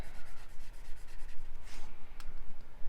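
A pen scratching back and forth on paper while filling in black areas of a drawing, with quick rhythmic rubbing strokes that are close and continuous, heard alone.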